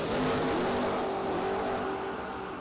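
A drag racing car at the top end of its run near 97 mph at a New Year drag event, its engine a loud continuous roar with a wavering, pulsing tone that holds steady through the whole stretch.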